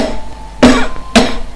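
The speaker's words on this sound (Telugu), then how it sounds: "ఈ మాయదారి దగ్గు నాకు తగులుకుంది." A woman coughs twice, short harsh bursts about half a second apart, close and fairly loud against a quiet background.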